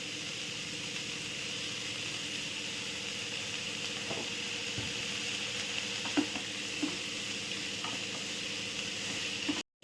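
Onions frying with salt in a home kitchen pan for onion samosa filling, a steady close sizzle running throughout with a few soft stirring clicks and scrapes, no talking.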